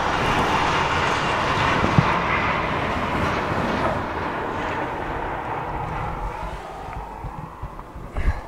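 CSX freight train Q367 rolls past in the snow with a steady, loud rumble and clatter of cars. It holds throughout, with a sharp knock near the start and a fresh burst of noise just before the end.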